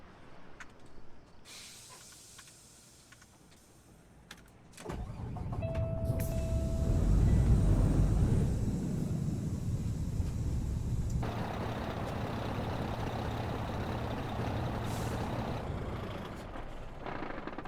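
A modded truck in a trucking game idles quietly, then its engine swells into a loud, low rumble with a rising whine and airy hiss, running steadily before dropping slightly, with a brief air-brake release near the end.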